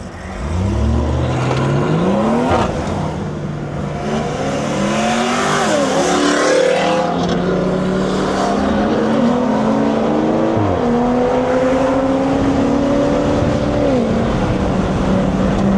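A Stage 2 tuned BMW 340i accelerates hard out of a car meet, its engine climbing loudly through repeated rising revs with shifts in between, close and continuous with road noise.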